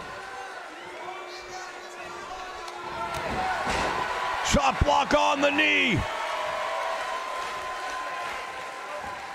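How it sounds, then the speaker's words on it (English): A virtual arena crowd in the WWE 2K18 wrestling game roars steadily, swelling into louder cheers and a few sharp slams midway, with a commentator talking over the noise. "this crowd's starting to really get into this one now"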